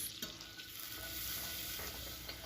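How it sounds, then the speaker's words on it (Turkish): Flour being toasted in melted butter in a pan for béchamel sauce, giving a steady soft sizzle with faint stirring scrapes, close and continuous, with no voices. "Bu şekilde un kokusu çıkana kadar kavuruyoruz."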